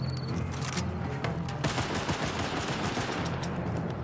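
Gunfire in a custom zombies game, dense rapid automatic shooting with sharp cracks and a steady barrage throughout four seconds, loud and close, with no talk.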